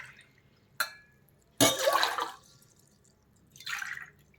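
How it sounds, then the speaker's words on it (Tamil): Water splashes and trickles into a cooking pot in a home kitchen in a few short bursts, clear and close with quiet pauses between, no voices. "இப்போது ஒரு பாத்திரத்தை வச்சுட்டு அதில் ஒரு 3 டம்ளர் தண்ணி ஊற்றிக்கோங்க."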